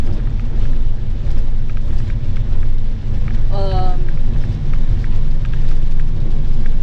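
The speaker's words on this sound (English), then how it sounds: "Yeah, I'm kind of done with the rain, but oh well." Rain drums steadily on a car during a drive along Route 66, a dense continuous hiss close by with road noise underneath and a brief chirping tone partway through.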